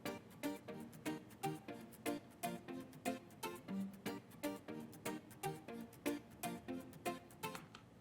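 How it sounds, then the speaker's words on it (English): Little plucked guitar melody from the original song, used in a remix, repeating in short regular notes over a soft pulsing backing, quiet and without talk. "So then we actually have this little guitar pluck thing that was part of the original song"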